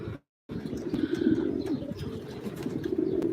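Pigeons cooing inside a loft housing about eighty birds, soft overlapping low coos running continuously after a brief silent gap at the start, with faint chirps above.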